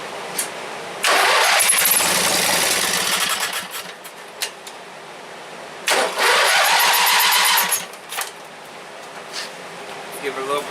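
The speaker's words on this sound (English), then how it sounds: "Pull the choke." A Briggs and Stratton opposed twin engine (16 or 18 hp) with a freshly rebuilt carburetor cranks loudly in two long bursts. It catches and sputters between attempts, close up with no talk.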